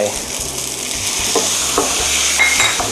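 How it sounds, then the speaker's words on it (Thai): Pad thai noodles with a pinch of chili powder stir-fried in a pan, a steady close sizzle with spatula stirring and occasional scraping strokes, no voices. "ดี๋ยวเราจะผัดไปเรื่อย ๆนะฮะ"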